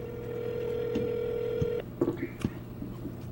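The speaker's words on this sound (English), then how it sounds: "So Sabs, in a minute, I'm going to call your phone." A phone on speaker gives a steady dial tone, then a quick run of keypad beeps from dialing, followed by short tones as the call connects, all clear and fairly loud in a quiet room.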